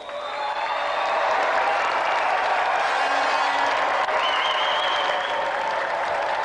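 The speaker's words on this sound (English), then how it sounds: "Let's have a warm round of applause for Tony the Lunatic Duray" Loud, sustained applause from a large studio audience at a televised arm-wrestling contest, steady throughout, with cheering and a few whistles rising above the clapping.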